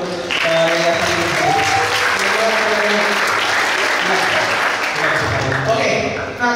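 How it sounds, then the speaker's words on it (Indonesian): An audience at a talk on global speaking competitions bursts into steady, dense clapping with some crowd murmur and a voice running underneath throughout. "Boleh tepuk tangan untuk yayasan ini."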